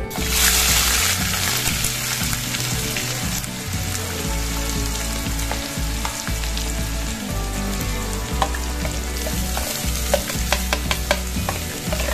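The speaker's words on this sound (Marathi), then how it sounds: "मी इथे 2 कांदे घेतलेले आहेत, त्यातून चांगलं बारीक केलेलं आहे, ते टाकायचं आहे।" Finely chopped onions go into a hot pan and fry, producing a loud, continuous crackling sizzle with stirring and scraping sounds over about twelve seconds, close up and without speech.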